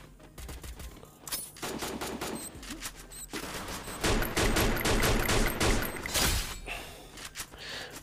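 Repeated rapid volleys of gunfire in a video game crackle in several bursts, loud and close, with the heaviest stretch in the middle and brief pauses between volleys.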